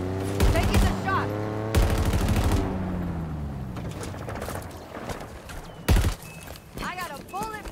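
Bursts of automatic gunfire from the video game Halo Infinite, loud and close, in several rapid volleys with pauses between, while voices speak over the action.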